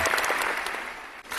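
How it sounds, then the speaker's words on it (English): An audience bursts into clapping, a brisk, dense patter with a few sharper individual claps, fairly loud and close, fading briefly near the end. "we can't keep clapping enough for this"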